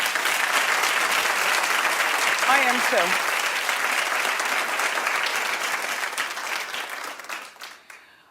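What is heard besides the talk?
audience applause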